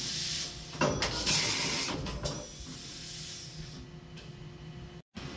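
A high feed mill cuts 1 3/4 inch holes by circular interpolation, giving a bright hissing, grinding burst up close that fades to a steady machine hum, with a brief dropout near the end.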